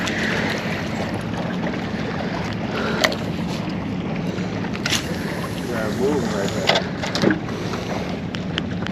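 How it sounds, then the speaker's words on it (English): A boat's trolling motor hums steadily on open water in rainy coastal conditions, a constant low drone mixed with wind noise and lapping water, and occasional small knocks and clicks from the boat. "I got the trolling motor turned up though"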